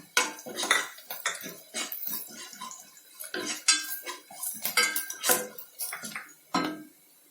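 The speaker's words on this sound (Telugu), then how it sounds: "ఇప్పుడు పసుపు వేసుకొని కలుపుకోవాలి." A metal spoon scrapes and clatters busily against a pan as turmeric is stirred into frying chillies and garlic for a bitter gourd curry, close, loud and continuous with no talk.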